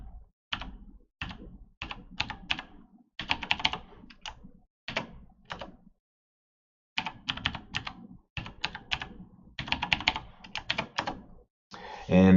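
Quick bursts of clicking keystrokes on a computer keyboard, tapped in short rhythmic runs with a pause midway, close and crisp, as a password is entered into an Oracle EBS setup running in VirtualBox.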